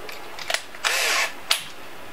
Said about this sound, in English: take a countersink and just chuck it up in your drill